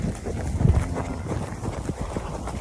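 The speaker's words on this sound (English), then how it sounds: "It's gonna be a stampede here." Cattle stampeding across a dry summer pasture, hooves drumming in a steady, rumbling run at moderate distance with a low, continuous background.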